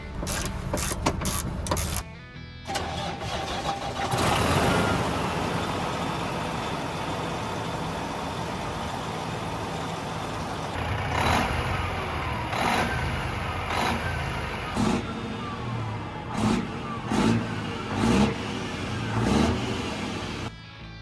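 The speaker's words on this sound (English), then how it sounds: "we started up the truck" A semi truck diesel engine cranks, catches and idles after turbo clamp maintenance, then revs several times. Clattering mechanical knocks run through it, and the loud rumble rises and falls in short bursts near the end.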